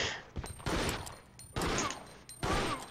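Gunfire in Resident Evil Outbreak on PS2 comes as three or four loud, separate bursts about a second apart, each with a short ringing tail, and no talk over them.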